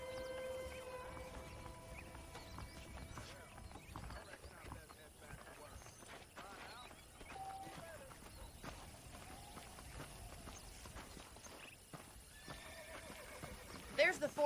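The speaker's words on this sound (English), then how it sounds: "I picked out a fine horse for you." A horse in the Western video game Red Dead Redemption whinnies and its hooves clip-clop steadily across a ranch, set under continuous ambient game noise.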